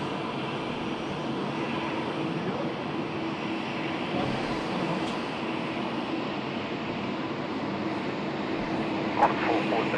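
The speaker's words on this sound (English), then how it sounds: "As we pan around for the Singapore Airlines flight, now rolling runway 34 left." A Singapore Airlines jet rolls for takeoff on runway 34 left at Sydney Airport, its engines a steady, broad roar at a distance that swells slightly toward the end.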